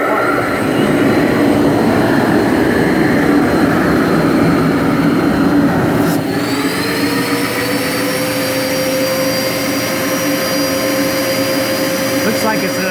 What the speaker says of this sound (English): I'll turn on both vac motors over here.